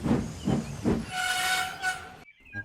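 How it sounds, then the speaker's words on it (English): A works train arrives on a model railway: puffing chuffs and hissing steam build into a steady rolling clatter with a sustained whistle-like tone, then it abruptly drops away. "A little later, Donald had arrived with the works train."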